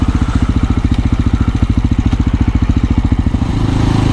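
An SWM RS650R dual sport motorcycle is ridden through an Australian town, its single-cylinder engine thumping in a steady, rapid pulse. The pulse holds a loud, close, even beat, then eases into a smoother drone near the end.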